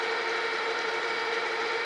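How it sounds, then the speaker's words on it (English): A 3/8 inch drill bit boring into a steel shaft on a metal planer restoration, a steady, dense grinding whir held at an even level throughout, close and continuous with no talking. "Starting with a 3/8 inch drill bit here."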